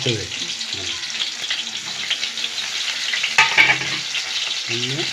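Green and dried chillies frying in hot oil in a pan with small onions, a moderate crackling sizzle with stirring scrapes while a voice talks in the background.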